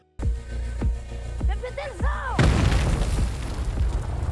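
In a film scene set on a minefield, a sudden loud explosion erupts after a few short vocal sounds and keeps rumbling with a broad roar to the end.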